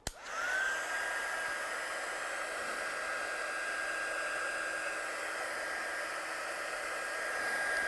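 Hair dryer blowing steadily close by to dry a stamped postcard, a constant whooshing hiss with a thin whine that starts abruptly and runs without a break.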